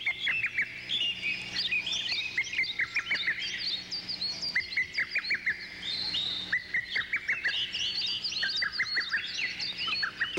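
Dense chorus of songbirds chirping and trilling in the forests of Myohyang Mountain, many overlapping calls near and far, with repeated short rapid trills standing out over continuous twittering and no speech.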